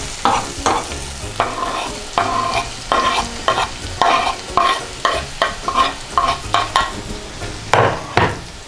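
Chopped bell pepper goes into onion frying with paprika in oil, a loud close sizzle punctuated by a steady series of spoon scrapes and knocks against the pan as it is stirred.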